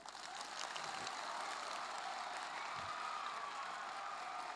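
Audience at a training camp gathering applauding for Swami Dharmabandhu, a dense, even wash of clapping from many hands sustained for several seconds.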